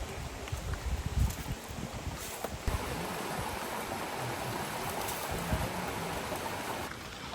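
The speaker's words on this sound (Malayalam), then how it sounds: "ഇതാണ് കറക്റ്റ് അരുവി എന്ന് പറയുന്ന സാധനം." A flowing mountain stream rushes steadily close by, a continuous broad watery hiss with some wind buffeting on the microphone and no voices.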